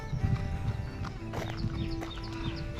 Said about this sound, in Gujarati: ઘોડાની લગામ હાથમાં પકડી ગયા